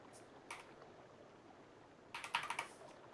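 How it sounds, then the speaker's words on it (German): Computer keyboard typing picked up by a microphone during a gaming session, a few faint clicks early on, then a brief quicker burst of keystrokes near the end, fairly quiet and close. "Deshalb hört man da jetzt die Tastatur mit."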